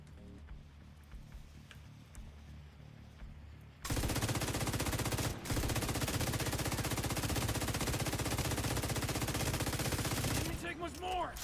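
Gunfire in the video game Payday: after a quieter stretch, a loud, sustained rapid volley of shots erupts and runs for about seven seconds before easing off near the end.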